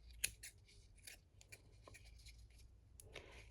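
Scissors snipping satin fabric while trimming it around a form, a few sharp metallic clicks with soft rustling between them, quiet and close.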